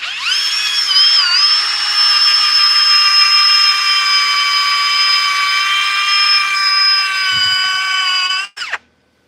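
A power sander whines steadily against a turned wood piece, loud and close, with a sustained high tone that cuts off abruptly near the end.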